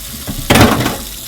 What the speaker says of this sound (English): Always good to wash your hands before eating.